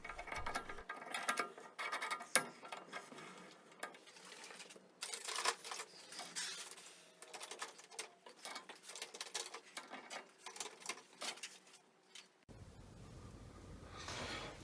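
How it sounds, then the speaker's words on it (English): Puller working the reciprocating box pulley off a Canadian Beaver scroll saw, with irregular metallic clicks, scrapes and ratcheting creaks coming in uneven bursts at close range for most of the clip, then fading to a quieter hiss near the end. "I'm going to use a puller on here and see how we go."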